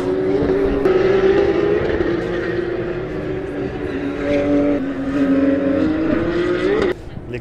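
Modified Alpine race car engine revving loudly and steadily, the pitch wavering and rising near the end before cutting off abruptly, with voices faintly underneath.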